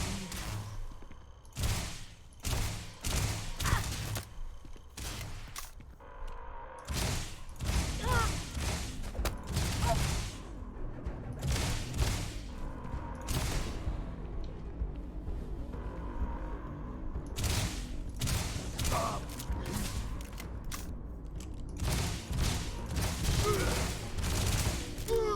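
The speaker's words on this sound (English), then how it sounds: "Oh, it's rapid fire." Rapid laser cannon fire in TIE Fighter, bursts of quick sharp shots repeating in clusters over a long stretch, fairly close and alternating with brief lulls amid background game sounds.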